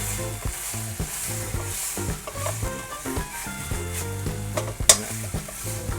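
Korean fried chicken being tossed and stir-fried in a tangy sauce in a pan, a steady sizzle with repeated scraping and clattering stir strokes, one sharper clank near the end, no voices.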